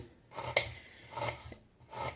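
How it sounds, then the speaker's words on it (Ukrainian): A knife slices through an onion in three separate rasping strokes, a crisp cut against the board, close up and quiet. "Нарізаю цибулинку ось так півкільцями."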